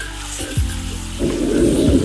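Curry leaves sizzle and crackle in hot oil, a dense steady frying hiss swelling louder midway and continuing close and alone.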